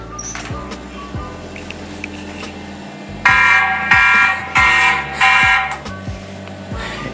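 Repeated electronic alarm tones from a TP-Link Tapo C320WS security camera siren, short beeps then louder bursts of a shrill buzzing siren in the middle, indoors and close.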